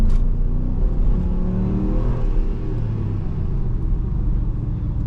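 A Ram 1500 Classic truck's engine revs and accelerates with a deep, steady rumble, its pitch climbing gradually, heard close and continuous without speech.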